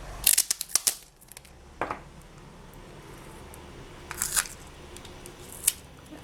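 Adhesive tape is pulled off a roll and torn during polymer clay mosaic craft work: a few crisp, close tearing and crinkling bursts separated by quiet pauses.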